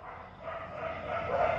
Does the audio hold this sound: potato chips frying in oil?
no